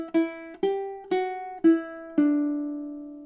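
Ukulele melody played with alternate picking, five plucked notes in a steady even rhythm, bright and close, the last note left ringing to fade out, with no talk over it.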